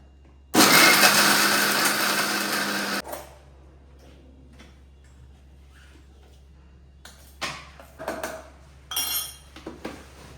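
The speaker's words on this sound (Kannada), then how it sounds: "ಸ್ವಲ್ಪ ಸಕ್ಕರೆ, ಸ್ವಲ್ಪ ಬಾದಾಮಿ, ಸ್ವಲ್ಪ ಕಲ್ಸಕ್ಕರೆ ಮೂರನ್ನು ಹಾಕೊಂಡು ಈ ಥರ ನುಣ್ಣಗೆ ಗ್ರೈಂಡ್ ಮಾಡ್ಕೊಬೇಕು" A kitchen mixer grinds almonds, sugar and rock sugar into a fine powder in one loud, steady whir of about two and a half seconds. Afterwards come quiet pauses and a few short clinks of lids or utensils.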